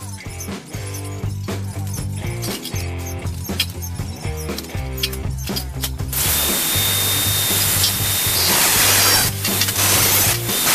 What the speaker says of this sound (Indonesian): Ini rangka akan saya potong 7 cm dan akan saya bikin 12 potongan.